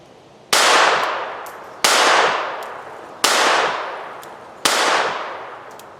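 Four loud shots from an FN Model 1910 .32 ACP pistol, evenly spaced about a second and a half apart, each a sharp crack trailing into a long, fading ring of echo.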